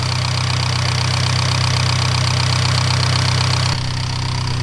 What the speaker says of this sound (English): If you guys are wondering what that noise is, it's normal. It's this high pressure Fuel injector.